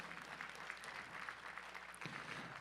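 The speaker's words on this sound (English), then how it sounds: "One more round of applause for these ladies." Applause from a powerlifting meet audience at a USA Powerlifting awards ceremony, steady clapping for the women's class winners that runs throughout with a brief dip near the end.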